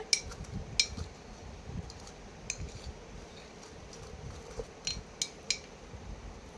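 A utensil scrapes and taps against a pan while chillies are stirred and crushed for a green chilli and coriander leaf pickle, giving intermittent sharp metallic clinks over a soft, steady background.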